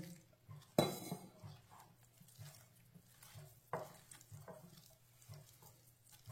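Spoon stirring thick raw potato tikki batter in a bowl, quiet wet scraping strokes repeating in an uneven rhythm, with a couple of sharper clinks against the bowl, close and low in level.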